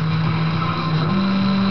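Steady engine drone of a car being driven in the video game Enter the Matrix, a constant hum that rises slightly in pitch partway through, close and even with no speech.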